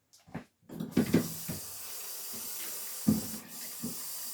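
Water running from a kitchen tap onto tumbled rocks during rinsing, a steady hiss of flow broken by splashes and knocks of stone, close and fairly loud with no talking.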